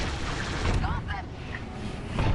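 Starfighter cannons in Star Wars Squadrons fire in a dense, continuous barrage of bursts and booms, while radio voices and a player talk over the gunfire.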